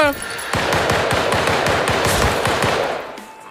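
An automated turret in the game Deceive Inc. fires a rapid, steady burst of shots lasting about three seconds, loud and close, then tapering off.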